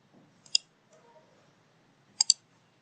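Computer mouse clicks sound in two short bursts, a single click and then a quick double click, crisp and close against a quiet room.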